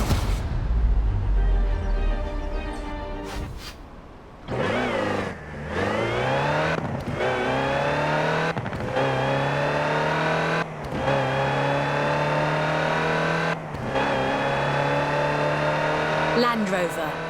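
A Land Rover Type 3 utility truck in Forza Horizon 4 drives with a loud engine climbing through repeated gear-by-gear revs, each rising whine cut by a brief shift, while a person talks over it.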